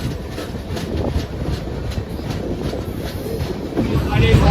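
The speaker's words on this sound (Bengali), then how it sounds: "ভোগপুর স্টেশন ছাড়ার পরই ট্রেন বাম দিকে টার্ন নিয়ে চলে যাচ্ছে দীঘার দিকে" Tamralipta Express train running on rails just after leaving Bhogpur station toward Digha, a steady rolling rumble with rhythmic wheel clatter, close and continuous, growing slightly louder near the end.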